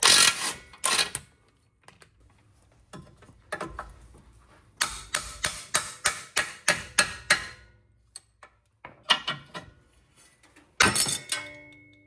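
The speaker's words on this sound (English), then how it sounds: "you saw I'd use my special tool to get that lower ball joint separated" A ball joint separator tool works on a Subaru lower ball joint during a front control arm replacement, producing loud, close metallic clicks and ratcheting taps in quick bursts separated by short pauses.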